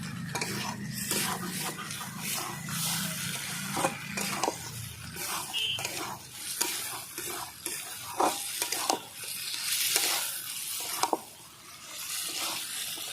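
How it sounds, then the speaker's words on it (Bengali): Chicken pieces are being stir-fried for chicken kosha, with steady scraping and clinking of a spatula against the pan over a soft sizzle, close and continuous with irregular taps, and no voices. "এইভাবে আমি আরও এক মিনিট ধরে ভালো করে কষিয়ে নেব"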